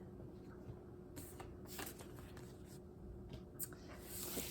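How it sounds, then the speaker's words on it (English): A deck of tarot cards is shuffled by hand in a quiet room, with soft riffling bursts and slides repeating in an uneven rhythm, close and faint. "Just going to shuffle the cards here as I get ready for pile number"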